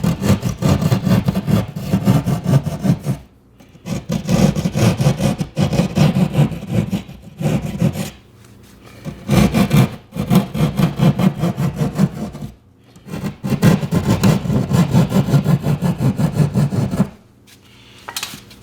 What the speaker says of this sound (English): So take our knife, our sheetrock knife, and we'll cut this out